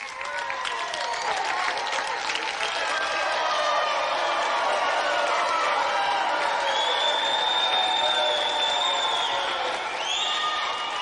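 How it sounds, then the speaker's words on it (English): A television game show's studio audience applauds and cheers for a young contestant called down from the seats, a loud sustained wall of clapping with whoops and shouts rising near the end, no speech on top. "Give him a round of applause."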